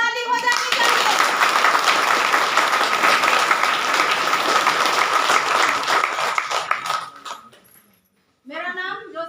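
Loud applause from a gathered audience at a branch ceremony honouring a new official with flower garlands, sustained dense clapping for about seven seconds before fading out, with a voice briefly returning at the end.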